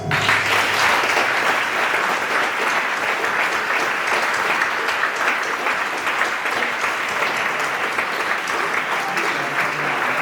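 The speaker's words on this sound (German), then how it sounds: "Das ist dein Schein und dein Applaus" Steady, full applause from an audience at a salon magic show, dense continuous clapping that holds level throughout.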